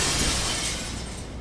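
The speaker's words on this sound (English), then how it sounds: "smashes through the window and off into the night." Window glass shatters loudly in the Death Mark video game, a dense burst of breaking glass that fills the moment and slowly trails off without any voice over it.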